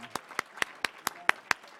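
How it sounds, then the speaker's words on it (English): Several sharp, evenly spaced claps ring out in a quick rhythm, close by and fairly crisp, with faint voices in the background. "let's give everybody a big applause here"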